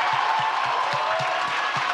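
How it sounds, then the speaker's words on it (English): An audience at a talk applauds, a dense steady wash of many hands clapping, with a rhythmic low thump repeating underneath, loud and sustained throughout. "please give Charlamagne one final round of applause"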